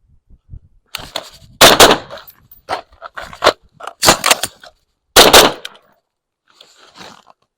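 An MP5 submachine gun fires during a shooting drill with a reload, sharp close shots in short bursts and single cracks spread across several seconds, a quiet gap near the end, no voices.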